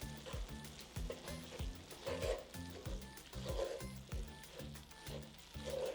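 Tomato paste being stirred into sizzling browned meat in a pan for shepherd's pie, with steady soft frying crackle and regular scraping strokes of a spoon in an even rhythm, quiet and close.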